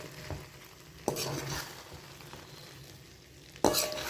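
Idiyappam and chicken for biryani being stirred in a pan, with soft scraping strokes and a gentle sizzle, plus two sharper clinks of the utensil against the pan near the start and end.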